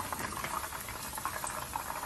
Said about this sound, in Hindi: इसी तरह से हम अपनी सारी चिकन जो है फ्राई कर लेंगे